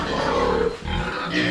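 Piglets on a pig farm raising lechon pigs, grunting and oinking steadily and close up through the whole stretch, loud and continuous with no talking.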